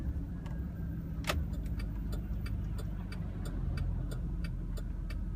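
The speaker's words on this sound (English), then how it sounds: "Let these cars go by." Cars pass along a country road beside rural acreage, a steady low engine and tire rumble that swells and fades as vehicles go by, with a few light clicks and taps near the microphone.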